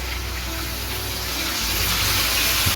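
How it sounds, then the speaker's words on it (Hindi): A glass of water poured into mutton kadai cooking in a pot, a steady loud rushing gush of liquid that continues throughout without any talk. "अब हम इसके अंदर 1 गिलास पानी ऐड करते हैं।"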